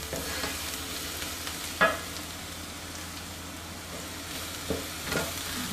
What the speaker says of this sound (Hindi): पहले इनको थोड़ा सा फ्राई कर लें, फिर बाकी वेजिटेबल्स डालें